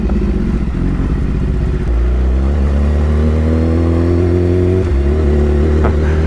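A BMW S1000RR motorcycle with an aftermarket exhaust line idles and revs steadily up and down, loud and close, its engine note rising and dropping with no speech over it.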